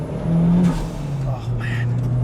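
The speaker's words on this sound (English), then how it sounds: "Let's talk about the star of the show here, which is that Rev 4 3SGDE engine." A Toyota MR2 with a swapped Rev 4 3SGE engine drones loudly and close, the pitch climbing slightly as it revs, then holding a steady, strong hum.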